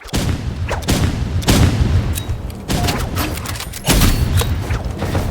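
Explosive rocket-launcher blasts and gunfire in the shooter game Rivals, several loud booming bursts spaced a second or two apart over a constant busy rumble of battle noise.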